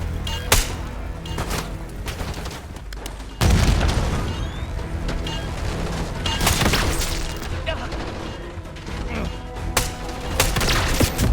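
A frag grenade explodes in the Black Ops 6 campaign, a heavy booming blast amid ongoing gunfire, with several more sharp bangs and crashes afterward in a busy combat scene with voices calling out.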